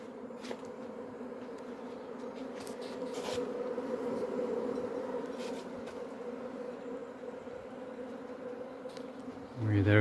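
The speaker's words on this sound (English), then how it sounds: "There are a few bees that have missed the entrance and have come inside." Steady droning buzz of honeybees inside a hive in a forest garden, a continuous mid-pitched hum with faint crackles, ending in a brief louder low thump.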